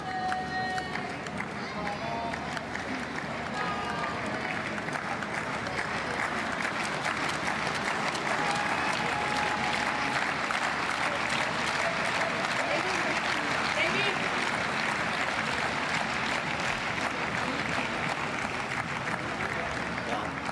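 An impatient crowd of spectators at a Paralympic boccia medal match claps steadily in a loud, continuous, rhythmic patter with a large Portugal contingent, while commentators talk over it throughout.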